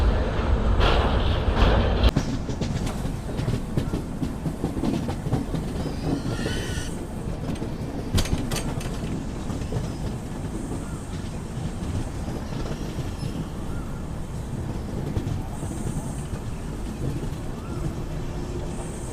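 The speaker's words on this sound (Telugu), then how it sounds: "ఇది వచ్చేసి మనకు ధర్మవరం మచిలీపట్నం ఎక్స్ప్రెస్ ట్రైన్ ఇది" Dharmavaram–Machilipatnam Express passing near Vijayawada, a steady broad rumble of rolling stock and wind sustained for the whole stretch, loud from the start with a sharper burst at first and no talk.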